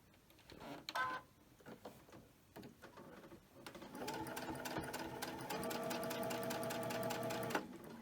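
A sewing machine stitches fabric for a face mask, starting with a few scattered clicks and handling sounds, then settling into a steady, rapid mechanical whir of needle strokes for several seconds before stopping.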